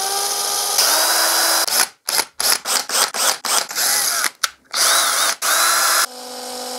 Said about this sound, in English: I'm going to record the drill sound